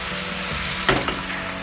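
Mirin swirled into a hot pan of frying chicken, giving a steady sizzle with a brief sharp hiss and clatter partway through, heard up close.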